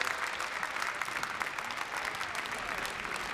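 Spectators at the 2000 World Pool Championship final applaud champion Fong-Pang Chao of Chinese Taipei, a dense, sustained ovation of many hands clapping steadily with no talking over it.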